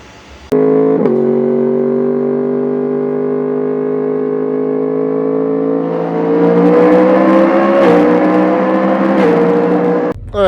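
A Yamaha MT10 motorcycle fitted with a Two Brothers exhaust and a freshly flashed ECU pulls away and rides, its loud harmonic engine note droning close and steady before climbing as the revs rise, with a couple of shifts near the end.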